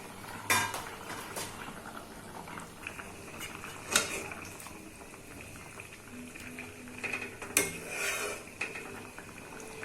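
Local fish going into a pot of simmering sponge gourd, heard as clinks and scrapes of a utensil against the pot with bubbling and stirring, a few sharper knocks standing out over a soft, steady cooking background.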